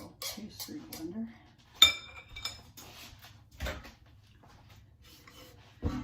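A fork scrapes and clinks against a bowl while cutting butter into flour, sugar and grated lemon peel for a New York cheesecake crust, giving irregular metallic taps and scrapes, with a person talking in between.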